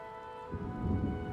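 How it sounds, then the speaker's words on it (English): Steady heavy rainfall in the video game Fire Emblem: Three Houses hisses with a broad wash of sound, swelling louder partway through over a constant tonal hum in the background. "now it's absolutely pouring"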